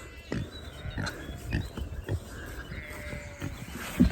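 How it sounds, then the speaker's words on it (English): Pigs being moved downhill through a wooded area in a rotational grazing setup, grunting and squealing in repeated bursts amid outdoor rustle, fairly close and moderately loud. "Now we're going to attempt to try and move these pigs from here down to the very bottom."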